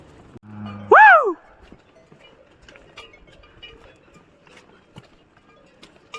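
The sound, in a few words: oxen walking with cowbells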